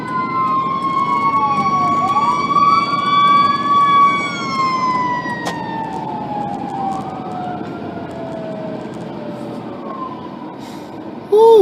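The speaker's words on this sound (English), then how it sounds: "And there are the sirens." Wailing emergency sirens rise and fall continuously over the rumble of traffic, loud and fairly close.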